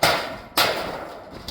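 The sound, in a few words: hammer and chisel striking a metal roof cleat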